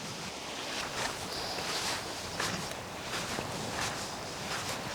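Sea waves and wind at a beach on Finland's southern coast, a quiet steady hiss of surf and breeze with faint periodic swells, no voices.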